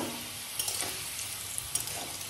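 Potatoes fry in a large wok, a soft steady sizzle with a few light stirring scrapes, fairly quiet and close.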